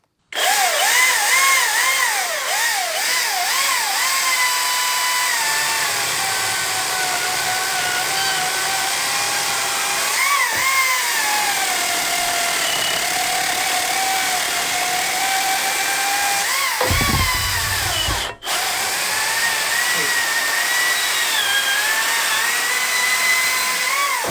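The battery-powered DCS 2500T power tool runs continuously for over twenty seconds, close and loud, its motor whine rising and falling in pitch with a brief dip and a sharp crack near the end.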